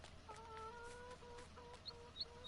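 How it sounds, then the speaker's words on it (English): Chickens in the La Coronella farm game cluck softly in steady, repeated calls at a low level, with a few sharper peeps near the end. "Yeah, the chickens are all around everywhere."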